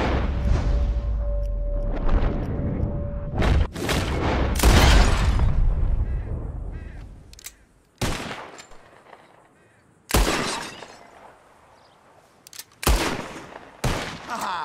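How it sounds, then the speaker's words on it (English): Revolver shots aimed at bottles in Red Dead Redemption 2 crack out loudly in a quick volley, then come as sharp single reports spaced a second or two apart, with ringing decay between them. "Whoever shoots more of these bottles wins"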